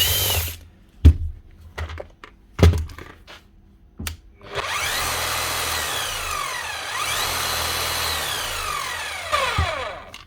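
An aging Bosch or Milwaukee hammer drill set to hammer-only mode: a few sharp knocks and clicks while it is handled, then a loud, steady motor whine with a rapid hammering rattle for about six seconds before it winds down.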